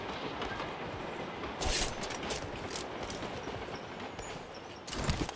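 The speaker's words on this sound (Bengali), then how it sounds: "ট্রেন আসতেছে ভাই" A train rumbling past in the PUBG Mobile video game, a faint, steady low rumble with brief louder swells.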